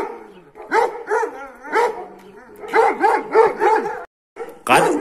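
An Eke dog barks repeatedly up close, loud bursts coming in quick uneven clusters with brief pauses between them.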